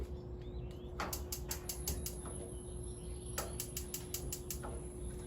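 Gas grill knob and igniter being worked to preheat for grilling corn, giving two bursts of rapid clicking ticks, one early and one later, over a steady low hum and faint outdoor background.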